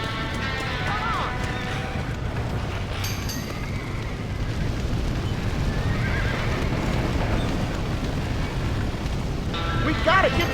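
In a Red Dead Redemption game scene, a horse neighs loudly several times over pounding galloping hoofbeats, with a crackling chaotic rush of background noise and shouting voices.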